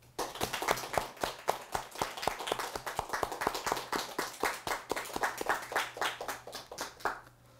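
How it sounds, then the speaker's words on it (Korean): A church congregation claps in applause during a sermon, a dense, steady run of many hands clapping together for several seconds before fading at the end. "하나님께 영광의 박수."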